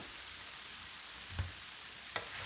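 Noodles frying in a pan, a steady soft sizzle with two brief clunks of stirring, fairly quiet throughout.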